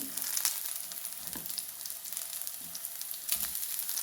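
Shallots and spices for Kerala sadya sambar fry in hot oil, a bright, dense crackling sizzle held close and steady, with a few spatula stirs and no voices.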